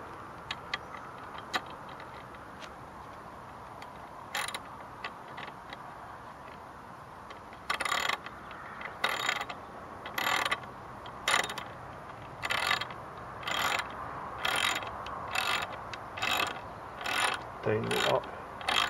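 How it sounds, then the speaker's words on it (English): A ratchet wrench tightens a bolt with a washer on a DIY geodesic dome greenhouse, with sparse clicks at first, then a run of about a dozen evenly spaced, close ratcheting bursts in the second half. "Tighten it up."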